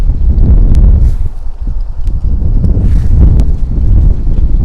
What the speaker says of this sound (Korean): 와, 또 바람 세진다.